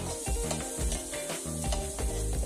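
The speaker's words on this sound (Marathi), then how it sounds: "कांदा परतत असतानाच मीठ घालून घ्यायचे।" Chopped onion sautés in a pan for a dry potato bhaji, sizzling loudly and steadily while a spatula stirs with rhythmic scraping strokes, close up.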